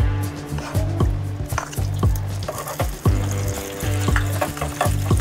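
Butter sizzles in hot oil in a small tadka ladle for restaurant-style pav bhaji, a steady crackling fry with repeated metallic clinks, heard over a sustained tonal background hum.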